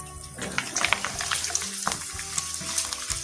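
Potatoes frying in hot oil for aloo kurma, a steady close sizzle with bursts of crackle and occasional stirring clatter.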